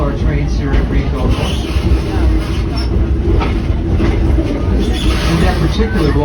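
Coal-fired 4-4-0 steam locomotive No. 7 of the D&LN at Greenfield rumbles and clatters steadily nearby, a continuous heavy railway din with a voice talking over it.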